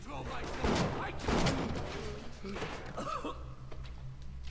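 Several loud gunshots from a weapon in the video game Bioshock, in irregular bursts over the first half, with a player's voice talking and reacting underneath.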